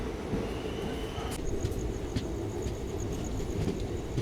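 An express train pulls out of Davanagere railway station, its carriages giving a low steady rumble with faint metallic squeals and clicks above it, heard from on board.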